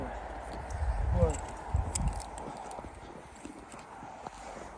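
Hooves of a stallion clop irregularly on the ground while it is being harnessed, several close, distinct thuds early on, with people talking over them.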